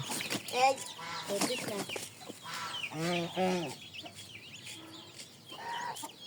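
Chickens being fed ginger cluck in repeated short bursts close by, with a few louder calls among them.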